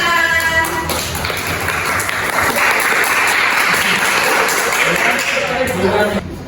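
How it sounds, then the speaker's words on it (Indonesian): Group of students clapping together at a group guidance session, a dense steady patter filling several seconds, with voices murmuring underneath. "Oke, tepuk tangan."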